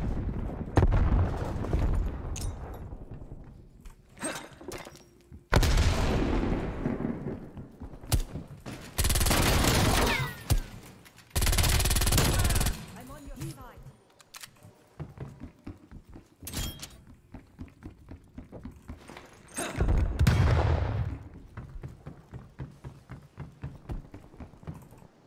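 A grenade explodes and MAC 10 submachine gun bursts fire in a video game, with loud rattling volleys and heavy booms recurring in clusters separated by quieter stretches.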